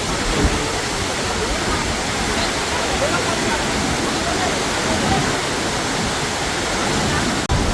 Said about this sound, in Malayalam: ഇതാണ് നമ്മളെ സസ്പെൻസിൽ നിർത്തിയ ആ ദേവകുണ്ട് വെള്ളച്ചാട്ടം.